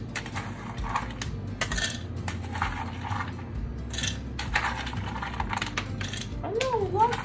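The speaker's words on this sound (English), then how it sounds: "what we're gonna do is add these peanuts to the blender" Peanuts are poured into a blender jar, a close run of scattered hard clicks, rattles and ticks against the container, coming in irregular bursts with brief pauses.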